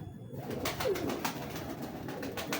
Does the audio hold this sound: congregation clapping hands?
no